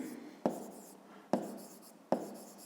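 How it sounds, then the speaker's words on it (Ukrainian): Pen strokes on paper in a school maths exercise: three sharp taps of the pen on the page, each followed by a short scratchy stroke, close and quiet, with no talk over them. "Отже, записуємо АЕ дорівнює 33"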